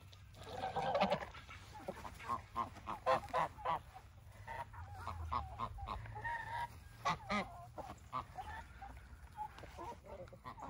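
Geese on a farm honk repeatedly at close range, a busy, uneven run of loud calls from a small flock of newly bought birds.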